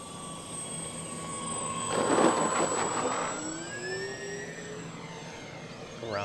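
An XFly-Model Twin Otter RC model airplane flies low for a touch and go, its motor whine swelling as it passes close and then sliding down in pitch as it moves away, steady and moderately loud.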